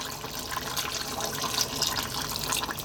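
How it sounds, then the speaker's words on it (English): Hot water pours into a pot of Jamaican curry chicken with potatoes, a steady splashing, trickling stream heard up close for a few seconds with no talking. "A little bit more hot water."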